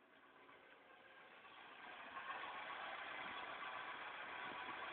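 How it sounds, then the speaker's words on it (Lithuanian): A carburetted 1.6-litre Audi 80 engine runs unevenly nearby, its rough, slightly uneven rumble swelling a little louder after the first couple of seconds, with no talking. "girdisi tiksliau per išmetamą vamzdį, bet variklis dirba netolygiai"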